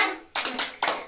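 A group of women clapping together in a quick chant rhythm, sharp claps in a short, close burst indoors.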